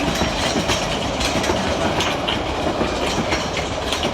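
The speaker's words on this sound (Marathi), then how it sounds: "ट्रेन येली" A train arrives at a London platform, rolling past close by with a steady rumbling roar and rhythmic clatter of wheels over rail joints, no voices.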